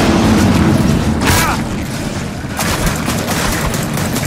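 Gears of War 4 combat: loud continuous gunfire with sharp bursts and a couple of heavy blasts, dense and close, with faint shouted voices mixed in.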